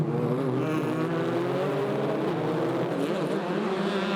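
Formula Masters race cars at Kuala Lumpur howl around the track in a continuous dense roar, several engines overlapping at steady high revs, heard at a distance.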